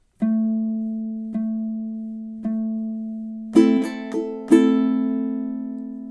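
A ukulele repeats one low note three times, then adds a few brighter strummed and fingerpicked notes that ring out.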